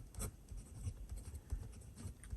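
A TWSBI Go fountain pen with an extra fine nib writing on paper, soft close scratchy strokes in quick succession, quiet and alone.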